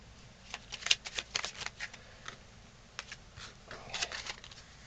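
Playing cards dealt by hand one at a time: a quiet run of crisp flicks and slaps at irregular intervals, close and soft.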